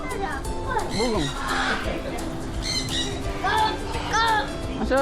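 Birds squawk repeatedly in an aviary at G2G Animal Garden, with harsh calls rising over a family talking and children's voices nearby.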